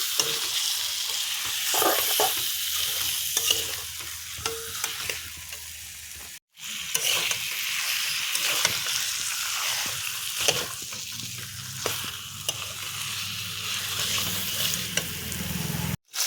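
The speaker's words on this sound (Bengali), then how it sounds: "দেখুন আমি মাংসটা কষিয়ে নিচ্ছি" Meat sautéed in a pan for a Bengali meat curry, a continuous close sizzle with repeated spatula scrapes and stirring, broken by two short cuts and no talk.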